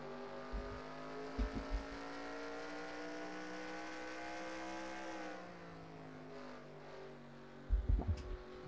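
An onboard lap in a sim race car, number 83, at Memphis: a steady engine drone climbs in pitch as it accelerates, then drops off and rises again, with short bursts of thumps near the start and end.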